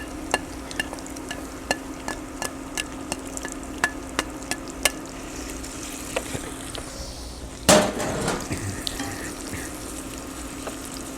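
Torn sausage pieces brown in a pan with a low, steady sizzle and regular sharp taps of a utensil, followed by a sudden loud burst of running water from a tap that fades into a continuing wash of sound.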